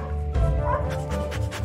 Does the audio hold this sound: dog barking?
yes